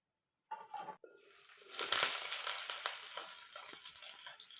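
Onion hits hot oil on a wood-fired village stove, preparing a spicy mutton curry: brief clatter after silence, then a rising, steady hiss of frying that holds at moderate level.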